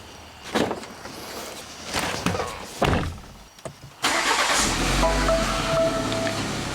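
A 2024 BMW X3 being rebuilt after a total loss starts up, with thumps and clicks before the engine catches and settles into a steady, loud idle close by.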